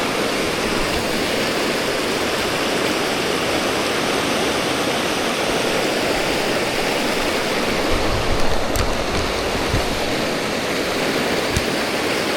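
The Tyenna River flows in a steady, broad rush of water close by, a constant wash with no pauses and no talking over it.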